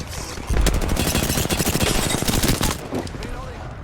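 Rapid automatic gunfire rattles through a firefight in Apex Legends, a dense burst of close, loud shots lasting a few seconds with a brief lull near the end.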